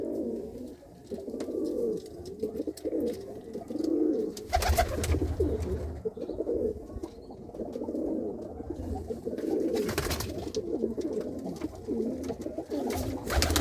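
Pigeons coo softly and repeatedly inside a loft, a continuous low burbling chorus close by, with occasional wing flutters or brief rustles breaking through.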